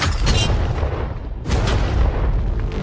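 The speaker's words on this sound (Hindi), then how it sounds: "ये 5 टैंक्स पैसों पर निशाना लगाकर 20 राउंड फायर करने वाले हैं। ब्लेक, पहला शॉट फायर करो।" A tank cannon fires at a pile of money, and the deep booming blast rolls on through the whole short stretch. A second heavy thump hits partway through, with dust and rumble hanging in the air.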